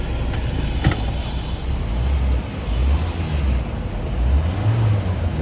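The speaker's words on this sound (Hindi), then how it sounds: "ये आप देख सकते हो गाड़ी हमारी स्टार्ट है।" Ford EcoSport diesel engine idling steadily after a restart following water damage, a continuous low rumble close by with no talk over it.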